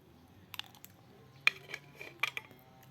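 A spoon scooping catfish larb from a dish, giving a few sparse, light clinks and scrapes of utensil against the dish, close and quiet over a near-silent background.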